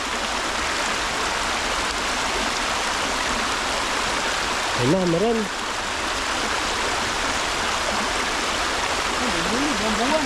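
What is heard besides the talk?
river water flowing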